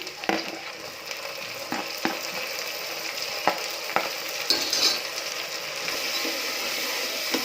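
Onion and tomato frying in oil and ghee for kushka: a steady close sizzle with repeated scraping knocks of a spoon stirring the pan, no talking.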